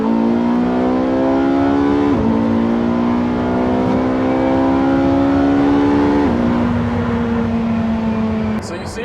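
A straight-piped Porsche 918 in race mode revs hard with a loud, raw exhaust drone that climbs steadily in pitch, dips twice with gear changes, and keeps pulling, close and overpowering throughout.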